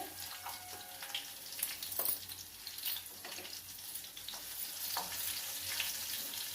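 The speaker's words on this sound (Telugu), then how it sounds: "ముందు దీనికి వెల్లుల్లి వేస్తానండి మళ్ళీ కొంచెం ఇంగు వేస్తానండి" Garlic and asafoetida fry in hot oil for a Telugu ridge gourd dal, a soft, steady sizzle with occasional light clicks from stirring, quiet and close.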